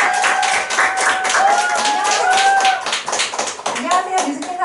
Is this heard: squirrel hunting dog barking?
no